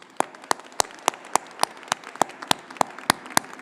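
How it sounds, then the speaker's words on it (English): A university commencement audience claps for friends and families, heard here as a sparse, steady run of about a dozen distinct handclaps at an even rhythm over a quiet room. "So can you join me in a round of applause for them?"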